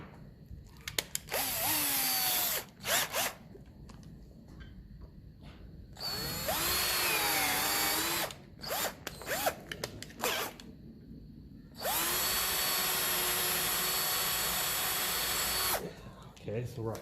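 A power drill boring a hole while working on a 1953 Ferguson 20 TEF diesel tractor whines in several long bursts, starting and stopping with short pauses between runs, close and fairly loud.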